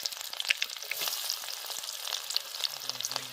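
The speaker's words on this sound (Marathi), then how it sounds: "कांदा आणि मिरच्या टाकून घेते तेल चांगलं तापलंय" Onions and green chillies hit very hot oil with a bright, dense crackling sizzle, loud and close, with spattering pops across the whole stretch.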